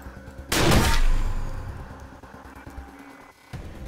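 Gunfire aimed at robots in the video game Wasteland 2, set in a robot graveyard: a single loud burst of shots that rings out and slowly fades into a low background rumble.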